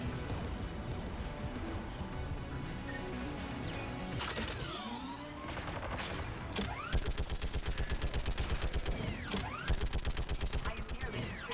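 Rapid, rhythmic heavy cannon fire from an anti-aircraft gun in the Mass Effect 3 game, steady thudding bursts amid battle noise and distant crashes.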